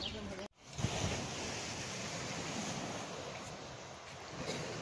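Sea waves washing onto a beach, heard as a steady broadband surf roar mixed with wind buffeting on the microphone, fairly close and continuous after a brief cut near the start.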